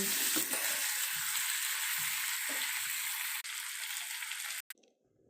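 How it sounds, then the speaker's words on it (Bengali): Pieces of meat fry in a pan with a loud, steady, close sizzle and occasional stirring sounds, before the sizzle cuts off abruptly near the end. "মাংসগুলো রান্না হচ্ছে।"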